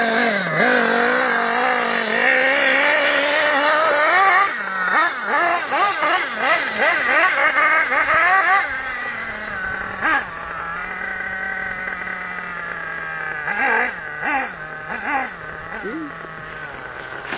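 A Kyosho Inferno NEO Race Spec nitro RC car revs on a farm, its high, buzzy engine climbing and falling in repeated sharp bursts, loud and close at first and then lower, with people talking over it.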